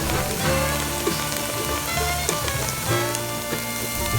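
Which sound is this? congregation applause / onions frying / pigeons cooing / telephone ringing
onions frying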